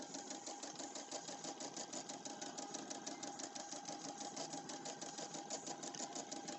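A sewing machine doing free-motion stitching runs alone at a steady fast rhythm, its needle tapping in an even, continuous mechanical chatter at moderate volume.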